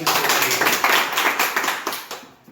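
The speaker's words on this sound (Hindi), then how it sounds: "एक बार जोरदार ताली" Audience at a human rights organisation meeting in Jhajha, Bihar, giving a short burst of brisk, close hand clapping that fades out toward the end.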